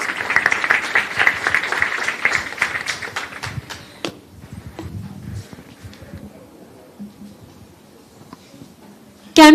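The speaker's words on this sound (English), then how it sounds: "Can we once again have a huge round of applause for our speaker?" Applause from an audience at a university Build with AI event, a dense patter of clapping that starts full and loud, then thins and fades over several seconds into quiet room noise before a sudden loud burst at the end.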